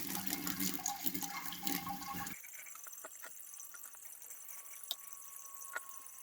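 Sparge water is trickled onto grain during a raspberry saison brew day, giving a steady liquid rush that cuts to a thinner, quieter trickle with scattered drips, close and continuous.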